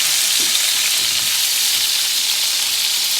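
Continuous hissing sizzle of food frying in a hot pan, close and steady, with faint scraping from stirring.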